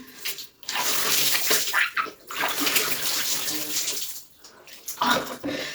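Cold water runs and splashes while someone washes with tamarind soap, a loud, irregular gushing with short pauses and surges, close by.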